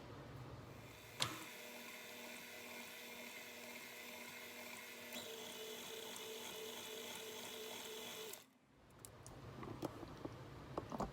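An electric mixer whirs steadily and close up while beating cookie dough for snowball cookies, switching on with a click and running with a constant mechanical drone before stopping abruptly near the end, followed by faint handling noises.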